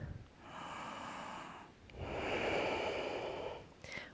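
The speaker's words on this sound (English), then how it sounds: "1 more full deep breath in" Two long, deep breaths during a yoga pose in an all-levels vinyasa class, each a slow, close, steady airy rush lasting over a second, with a short pause between them and no talking.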